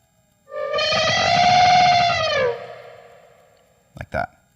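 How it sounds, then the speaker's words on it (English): Distorted electric guitar note with heavy effects rises in a volume swell while a whammy bar pre-bend eases up into pitch, sustaining about two seconds before fading, then two short muted picks follow. "you're actually going to do a pre-bend with your whammy bar starting below and letting the tension come back with it"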